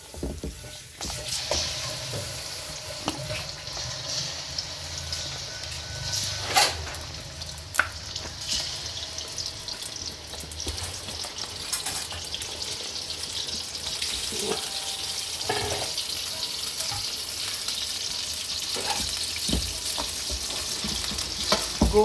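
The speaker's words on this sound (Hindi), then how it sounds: "गोश्त को उस वक्त तक फ्राई करना है जब तक इसका रंग ना बदल जाए।" Beef fries in ghee or oil with salt in a karahi, giving a steady, fairly quiet sizzle with intermittent scrapes and clinks of stirring.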